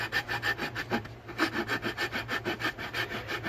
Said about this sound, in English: more filing.